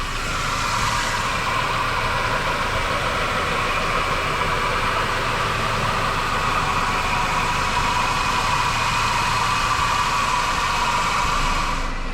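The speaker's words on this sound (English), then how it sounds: "All right, so we've got the engine running." A car engine idles steadily for twelve seconds during a coolant leak check, with a constant even hum and fan-like hiss and no variation in rhythm.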